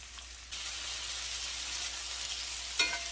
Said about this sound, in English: I cut up some peppers. We have red, green, and orange peppers. Okay. So we're going to fry these up as well.